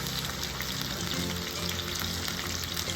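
Steaks searing in a hot pan for smothered steak and gravy with sliced garlic and a roasted herb blend, a loud continuous sizzle and spatter close up, steady throughout with no talking.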